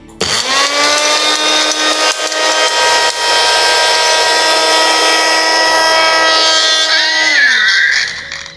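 Electric mixer grinder whirring steadily as it grinds an herbal paste, a loud continuous motor drone that winds down near the end.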